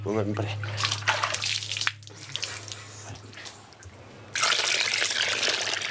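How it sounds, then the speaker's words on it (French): Icy cold water pours and splashes over a person rinsing off, a close, steady gush that breaks off briefly and then returns louder and fuller. "Je me rince d'abord à l'eau glacée."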